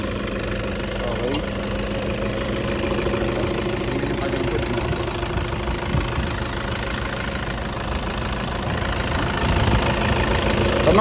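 A Toyota Fortuner's 2.5-liter D4D turbo diesel engine idles with a steady low rumble and faint knocking clatter, close and continuous, while someone talks over it.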